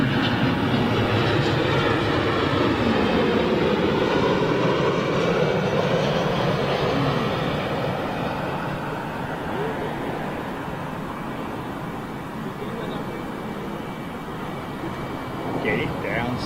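A jet airliner arrives at Lisbon airport, a loud sustained broadband engine roar that slowly fades, heard at a distance while people talk over it.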